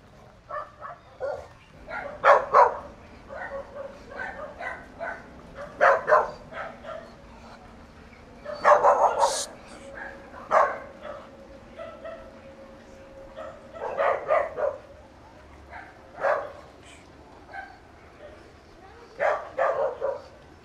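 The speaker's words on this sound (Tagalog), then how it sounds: "nasubukan din niya na idaan si Ota sa harap ng asong gala." A stray street dog barks and yips in repeated loud bursts, spaced by short pauses, with some whimpering and a low background hum.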